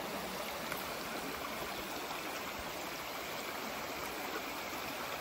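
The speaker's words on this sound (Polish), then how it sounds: "I przelewacie sobie przez tę bandamkę wodę." Water poured through a sweat-soaked bandana used as a makeshift filter outdoors gives a steady, close trickle and splash, continuous and fairly even throughout, with no talking.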